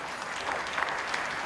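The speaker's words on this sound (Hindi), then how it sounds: "जोरदार तालियां।" Dense, steady applause from a large audience at a televised conference event greeting a yoga guru on stage, a continuous wash of many hands clapping, fairly quiet and even throughout.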